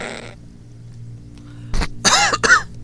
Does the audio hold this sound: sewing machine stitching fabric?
no